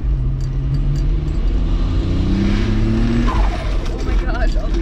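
A turbocharged VR6 engine in a wagon accelerates at partial throttle with a loud, steady droning rumble and rising tones, then tire or whoosh noise. Someone talks throughout.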